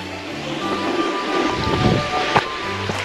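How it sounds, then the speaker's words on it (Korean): Ditch water trickles steadily and continuously nearby, a soft outdoor wash of flowing water with no voices. "도랑물이 쫄쫄쫄 흘러서 내려오고 있습니다."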